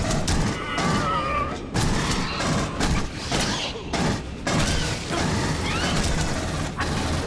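Rapid bursts of turret gunfire and impacts in the video game Aliens: Colonial Marines, loud and chaotic, with brief pauses between volleys.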